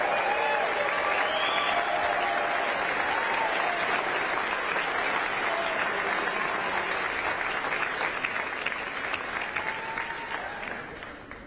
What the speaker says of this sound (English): Let's give them a round of applause for everything they do